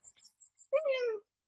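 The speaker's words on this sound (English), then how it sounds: "Selenia Space Cat. Yep. She's helping out." A house cat meows once, a short clear call up close, after a few faint high chirps, with nothing else around it.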